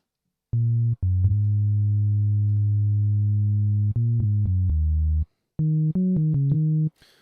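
An Ableton Operator synth plays a sine-wave bass with a touch of movement: a run of clean, low sustained notes, one long held tone, then shorter stepped pitches, each starting and stopping sharply with brief silences between.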